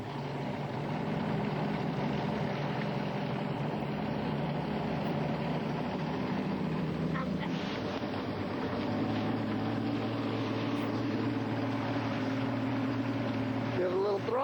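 A fishing boat's engine drones loudly as it is shifted into gear, its tone changing partway through as the boat moves forward, with wind noise and a voice under it.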